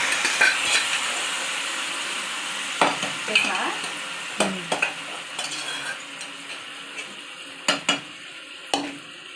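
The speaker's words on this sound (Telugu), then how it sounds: "బాగా వేగిపోయింది కదా ఇప్పుడు కలిపేద్దామండి గోంగూరలో" Fried mutton curry being stirred with gongura leaves in a pan, with a frying hiss under a run of distinct scraping and clanking stirs against the metal, close and clear.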